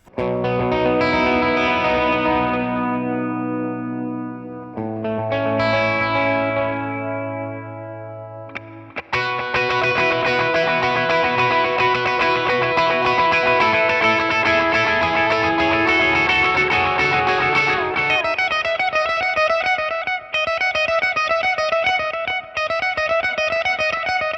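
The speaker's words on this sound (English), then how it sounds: "Oh, I love the trail of that reverb" Distorted electric guitar through an HX Stomp reverb in an amp's effects loop: two chords swelling and decaying into long trails, then continuous sustained strumming with a shimmering reverb wash, loud with no voices.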